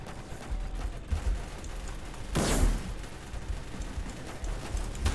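Gunfire and grenade blasts in the Roblox tank combat game Armored Patrol, a steady low rumble of battle noise with one louder burst of an explosion in the middle, no talk over it.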